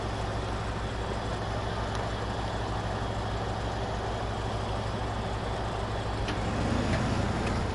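The Kenny C truck in the video game SnowRunner runs with a steady, loud, low engine drone that holds constant throughout, with no talking.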